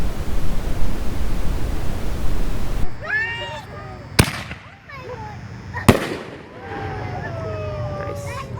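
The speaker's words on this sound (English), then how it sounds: "Swamp Blaster, turquoise with crackling flower." Swamp Blaster firework canister shell bursting into a turquoise crackling flower, with a loud launch hiss, two sharp booming reports and a trailing crackle, heard outdoors with people talking.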